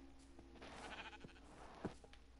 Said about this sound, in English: These sheep want to escape, so I'm actually gonna make them naked.